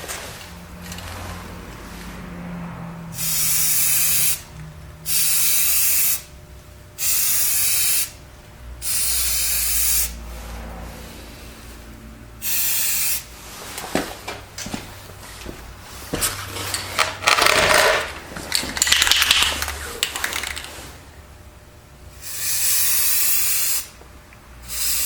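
Aerosol spray paint hisses onto a BlackHawk Serpa holster for a second coat, changing it from black to tan, in a series of steady bursts a second or two long with short pauses, then a longer run of rattling and rubbing handling noise before a final burst.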